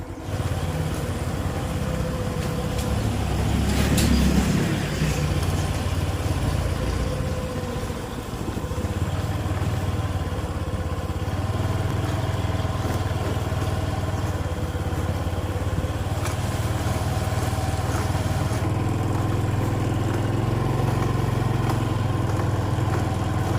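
A motorcycle is ridden along country lanes through green rice fields near Sisaket, Thailand, its engine humming steadily and close for the whole stretch, with a brief louder surge early on.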